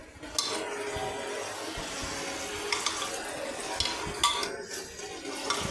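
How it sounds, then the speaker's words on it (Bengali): Jackfruit being stirred through spice masala that has released its oil in a pan, giving a steady, close hiss of frying with occasional scraping clicks from the spoon. No talking. "এবার যেই মশলাটা থেকে তেল ছেড়ে এসছে তেল শুদ্ধ মশলাটা এঁচড়টাকে মাখিয়ে নিচ্ছি ওই মশলাটা দিয়ে"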